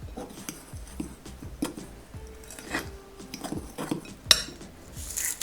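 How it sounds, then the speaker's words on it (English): Flour and sugar being mixed in a bowl, with a utensil scraping and clinking against the sides in an uneven rhythm of soft taps and scrapes, close and fairly quiet. "I'm gonna start by mixing flour with sugar"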